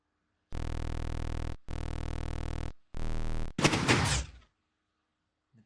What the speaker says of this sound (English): Doors are closed.